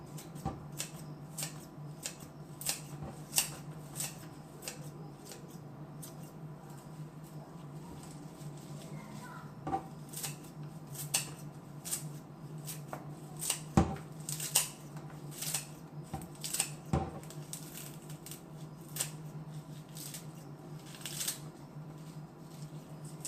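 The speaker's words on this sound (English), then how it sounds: "We're just going to cut all this leafy part." Scissors snip through the leafy part of an endive in a steady run of crisp, close cuts over a low background hum, with no one talking.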